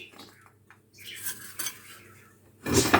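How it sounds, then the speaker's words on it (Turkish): Metal cake pan of freshly baked chocolate cake flipped upside down onto a glass baking tray, with soft clinks and shuffling building to a louder clattering knock at the end, nearby and without speech. "Hemen şöyle borcam tepsime ters çevireceğim kalıbıma."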